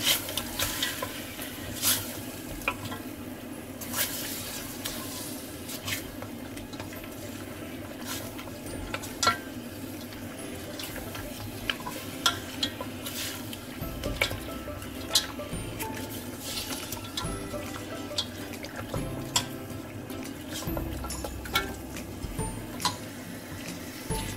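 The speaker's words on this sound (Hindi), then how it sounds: "गोश्त को आपने इतना फ्राई करना है कि गोश्त पिंक से वाइट हो जाए" Gosht (mutton or lamb) fries in a pan, giving a long crackling sizzle mixed with the clatter of stirring and scraping, steady and close with no talking.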